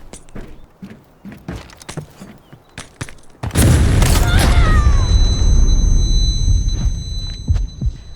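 In the video game Delta Force, after scattered clicks and soft thuds, a grenade explosion erupts suddenly and loudly and rumbles on, a high ringing tone lingering afterward.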